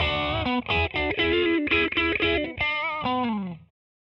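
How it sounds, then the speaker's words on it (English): An Empress Effects Phaser pedal in sine-wave mode sweeps smoothly across a chord-driven guitar line, the phasing swelling and receding in a steady circular motion through about three and a half seconds of loud, continuous playing before cutting to silence. "This could be considered to be the standard phasing sound."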